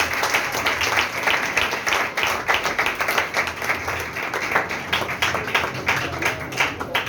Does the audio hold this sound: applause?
yes